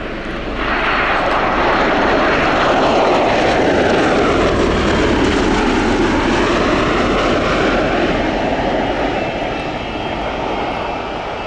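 A Bell Boeing CV-22B Osprey tiltrotor with twin Rolls-Royce Allison A1107 turboshafts roars during a flying display at RIAT 2018, a loud, sustained engine and rotor noise whose pitch sweeps down and back up as it passes, with no talk.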